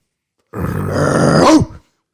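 A man imitates a dog with one loud, close, growling bark-like sound that lasts about a second and ends in a rough upward yelp, heard alone.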